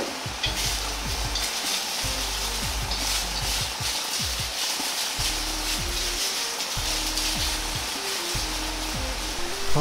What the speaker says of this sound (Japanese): ゆっくりと炒めながら、茄子から油と水分が出てくるのを待ちます。